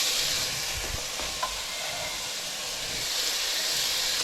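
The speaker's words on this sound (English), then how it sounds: "I'm just going to add my peppers and my onions for the tomato base" Peppers and onions fry in hot lard with a loud, close, hissing sizzle that stays steady throughout, broken by a couple of faint stirring knocks and no talking.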